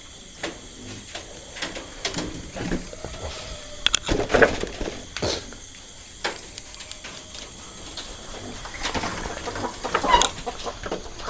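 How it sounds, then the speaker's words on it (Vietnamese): Chickens clucking in a handwoven bamboo coop, scattered soft clucks and rustling over a steady background hum and insect-like drone, fairly close with no talking. "Không biết là có bắt được gà không"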